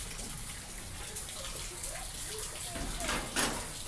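Steady rain falls outdoors during mango season, a continuous broadband hiss and patter that holds evenly for the full few seconds, with faint voices in the background.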